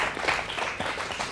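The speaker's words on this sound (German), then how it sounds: "Einen schallenden Applaus für den Anton Schaller." Short burst of studio audience applause for Anton Schaller on a Swiss comedy show, dense clapping close and fairly loud for about a second.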